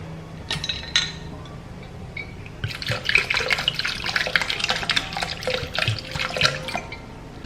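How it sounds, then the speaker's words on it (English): Cold water pours into a smoothie mixture in a blender jug, a steady splashing trickle with clinks, after a couple of short knocks. "And just some cold water."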